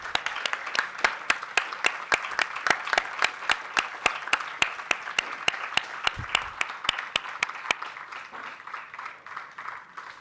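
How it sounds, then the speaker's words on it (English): Applause from the audience at a book launch during an inaugural ceremony, a dense, steady round of clapping that is loud and sustained, then slowly thins and fades toward the end. "please give a huge round of applause."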